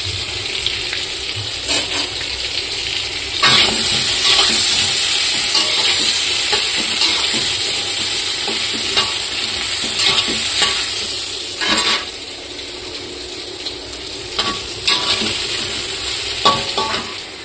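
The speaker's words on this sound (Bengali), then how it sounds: "এখানে বসিয়ে দিয়েছি আলু আর সেটা ফ্রাই করতে" Potatoes fry in a pan seasoned with salt and turmeric, giving a steady loud sizzle and hiss throughout with occasional stirring scrapes and clinks of a utensil against the pan.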